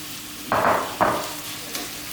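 Minced meat lands in a pan of softened onions and fries, with two bursts of loud sizzling that settle into a quieter steady hiss.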